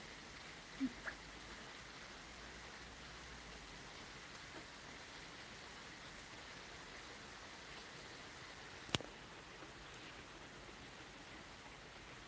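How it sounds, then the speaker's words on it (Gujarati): Light rain falls over a village in the morning, a soft, steady hiss that stays faint and even throughout, with a couple of brief taps near the start and one sharp click later on. "અમારા ગામમાં તો વરસાદ છે"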